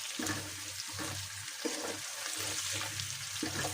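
Food sizzles softly in a pan as it is stirred, quiet repeated scraping sweeps in an uneven rhythm over a constant low frying hiss, close by, with no talking.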